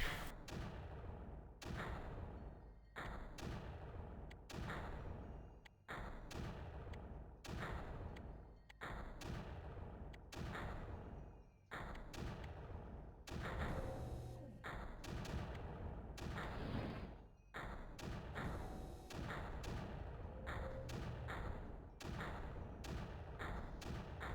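Mortar units firing in the strategy video game Creeper World; repeated heavy thumping shots at a regular rhythm, over two dozen in quick succession, loud and close, with no talking.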